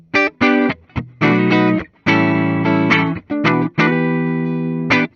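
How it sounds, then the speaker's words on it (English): 1969 Gibson Les Paul Deluxe electric guitar on a clean tone through the neck pickup, playing a sequence of ringing chords and notes with short gaps between strums, close and clear. "So as far as clean tones go, really like that neck position."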